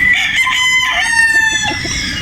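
A young straight-comb gamecock stag gives one loud, close crow, its drawn-out call rising and falling over about two seconds.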